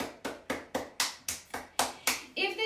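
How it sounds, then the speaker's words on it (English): A Pilates class claps for itself in about nine evenly spaced, fairly close claps, like a small group clapping in unison, followed by a brief burst of voices at the end. "Give yourselves a round of applause."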